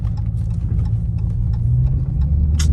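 A straight-piped second-generation Dodge Charger R/T engine rumbles deep and steady from the cabin at low speed while pulling into a gas station.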